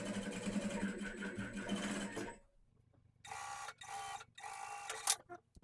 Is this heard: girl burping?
no